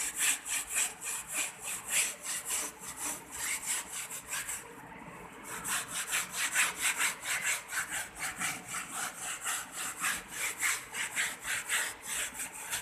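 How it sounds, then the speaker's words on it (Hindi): A stiff brush scrubbing a fabric and foam sofa during cleaning, in steady rhythmic back-and-forth strokes close by, with a short pause partway through and no talk. "मैं थोड़ा सा और इस पर ब्रश करके फिर आपको दिखाती हूँ"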